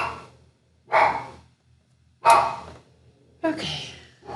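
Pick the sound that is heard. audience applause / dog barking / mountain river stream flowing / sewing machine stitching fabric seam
dog barking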